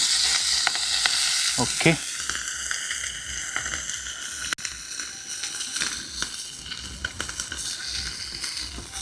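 Fish frying village-style in oil over a high flame, a steady close sizzle and hiss running throughout with a few stirring clatters early on and a brief spoken word.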